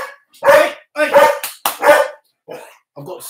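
Several dogs barking loudly and close in a home, in repeated bursts of overlapping barks with brief pauses, then a few softer yips toward the end.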